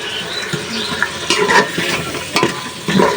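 Chicken pieces fry in a spice paste of turmeric, chili and coriander for a thin curry, producing a close, steady sizzle with wet stirring scrapes and brief louder bursts.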